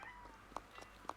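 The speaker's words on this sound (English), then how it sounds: "Our cat's very talkative right now, isn't she?" A pet cat meows indoors, a few short, fairly faint, talkative cries in quick succession.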